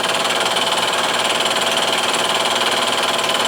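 A 1¼ inch two-flute end mill cutting a block at about 1,000 RPM: a loud, steady, dense grinding roar with a fast buzzing pulse, continuous throughout with no voices.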